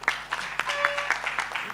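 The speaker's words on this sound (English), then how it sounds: "Please give her a bigger round of applause, everybody." Audience applause at a live awards ceremony, a short burst of scattered hand claps close by, uneven and lively.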